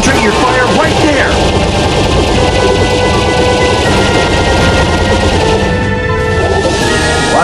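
Rapid blaster fire striking armor during a boss fight in the Star Fox Assault video game, a dense loud barrage of laser shots and metallic impacts layered with music and effects, continuous throughout, with voices speaking over it.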